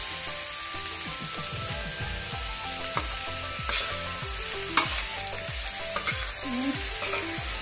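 Pork belly stir-fried in a pan with pheka and seasoning, a continuous sizzle under rhythmic scraping and clanking of a spatula against the pan, alone without speech.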